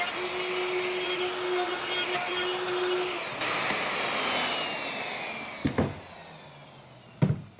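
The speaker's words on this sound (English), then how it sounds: "The dust collector doesn't get all the dust" A dust collector drones steadily through a woodworking session building cabinet face frames for a van conversion, a constant broadband whir with a faint tone early on, followed by a few sharp knocks near the end.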